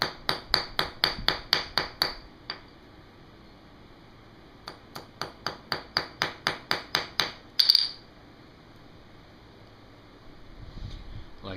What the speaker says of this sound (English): and a hammer, and we're going to flatten it out.